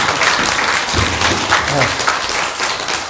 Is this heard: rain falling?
no